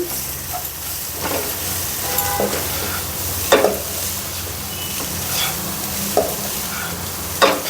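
A ponnaganti leaf and moong dal curry sizzles in a pan as a spoon stirs it with scraping strokes at irregular intervals over a steady frying hiss, close up, with no talk.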